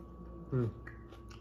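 A single short crunchy bite and chew of green onions, close and crisp, over a low steady background hum.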